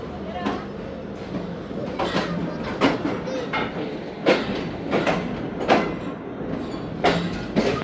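The Karakoram Express passenger train at a station stop, with a steady low rumble of the rail cars and repeated clanks and knocks of the wagons, while people talk in the background.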